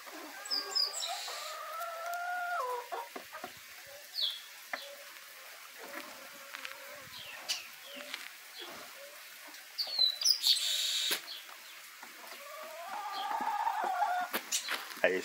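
Yellow Embrapa 051 laying hens cluck and chirp at a feeding trough, their calls rising in scattered bursts, some close and loud, others softer, across a quiet farmyard.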